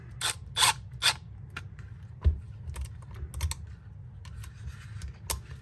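Screws are cranked down on a handmade holster, producing quick, close ratcheting clicks and small mechanical ticks in an irregular rhythm at moderate loudness.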